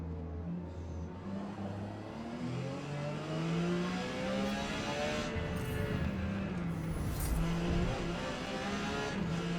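A Porsche 956 race car in Forza Motorsport, racing at Kyalami, holds a steady high engine drone that climbs and shifts through gears, with faint tire noise, at a moderate level.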